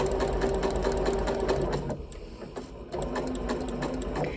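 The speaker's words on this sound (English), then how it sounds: "then just sew down that line" Sewing machine stitching quilt pieces for flying geese sections, a steady close mechanical whir that runs continuously, dipping briefly midway before resuming at full speed.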